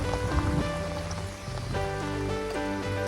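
Heavy rain pours down steadily, a dense, continuous hiss of water striking surfaces nearby with no pauses, heard alone without talk.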